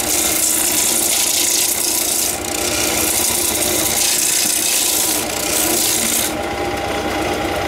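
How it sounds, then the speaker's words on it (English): Palm tree wood being roughed out on a lathe, a continuous loud rasping scrape of the tool cutting the spinning wood, with slight dips in intensity as the tool moves across. "I want to be touching the tool rest first as I'm roughing out and moving this across."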